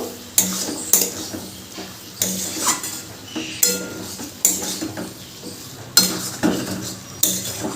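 Chopped tomato is stirred into a pot of chickpea and pea ghugni, a metal spoon knocking and scraping against the pot in repeated close clinks about once or twice a second.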